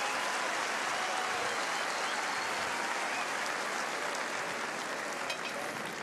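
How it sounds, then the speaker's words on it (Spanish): A large festival crowd at the Viña del Mar festival applauds a comedian, a thick, continuous wash of clapping that stays loud and steady throughout and tapers only slightly near the end. "Les agradezco sus aplausos"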